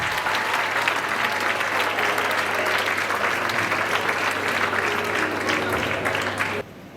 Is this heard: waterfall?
no